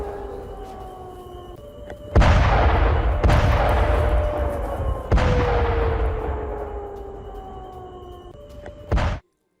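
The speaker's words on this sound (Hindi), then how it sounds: "धमाके, विस्फोट" A drone attack on a Russian airbase sets off a series of heavy, booming explosions, three large blasts and a sharper final one, each with a long rumbling decay over a faint steady siren-like tone, then silence.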